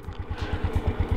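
A BORA49 motorcycle engine firing and running, a fast even putter of pulses close by over a short moment, with no voices.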